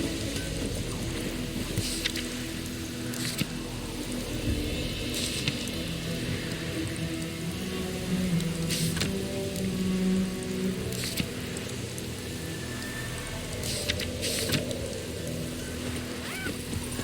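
Steady rain pouring down in The Witcher video game, a dense continuous hiss with occasional louder drops and faint low background rumble throughout.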